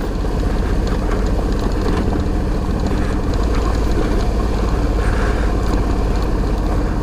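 A vehicle engine putters along in second gear on a ride over loose rock, a steady, loud low rumble with a continuous rough throb and wind noise, no voices.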